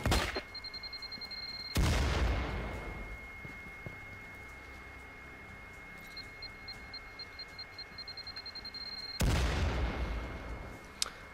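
Frag grenade blasts in the VR shooter Firewall Zero Hour, with two loud booms several seconds apart over a steady low background of distant combat noise and faint ticking.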